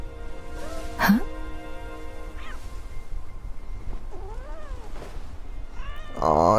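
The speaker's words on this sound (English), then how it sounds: "Aw, it's Kitty." A cat in the video game Wuthering Waves gives several short, clear meows spread through the passage over a quiet background, with a brief throat-clearing-like sound near the start.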